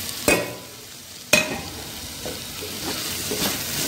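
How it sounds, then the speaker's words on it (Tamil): Radish sautéing in a pan for white kurma: two sharp utensil knocks, then a continuous close sizzle with soft stirring scrapes running underneath, no talking. "வதக்கி வச்ச முள்ளங்கியும் போட்டுடலாம்."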